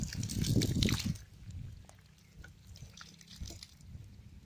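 Water pours and trickles into a plastic fertilizer can feeding a drip irrigation line, a brief splashing burst at first, then faint dripping and gurgling close by.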